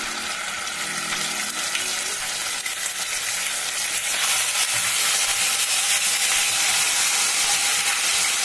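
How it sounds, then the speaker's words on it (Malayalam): Ginger garlic paste frying in oil in a non-stick pan, a loud continuous sizzle close by that swells and intensifies partway through, with no talking. "ഇനി ഇതിലേക്ക് കുറച്ച് ഇഞ്ചി വെളുത്തുള്ളി പേസ്റ്റ് ഇടാം."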